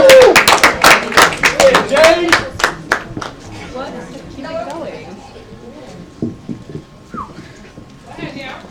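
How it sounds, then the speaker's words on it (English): A poetry slam audience claps loudly and rhythmically at first, the claps thinning out after a few seconds as a voice starts speaking over the scattered remaining claps. "Round of applause again. And keep it going."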